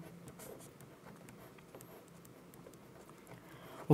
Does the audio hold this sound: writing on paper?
yes